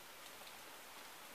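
Steady rain falling, a dense even hiss of drops on a surface with no pauses, close and moderately loud throughout.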